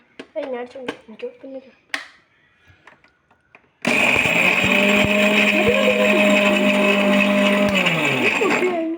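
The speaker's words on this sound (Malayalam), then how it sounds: "നമ്മൾ മിക്സിയിലിട്ട് അടിക്കാൻ പോവാണ്" A mixer grinder kicks in abruptly and whirs loudly and steadily for several seconds, grinding sugar to powder, following a stretch of talking.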